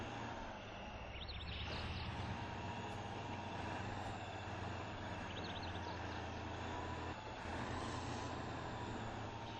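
Heavy off-road truck engines in the Spintires game drone steadily at a loud, close level throughout, with a constant low rumble and a faint rising whine now and then.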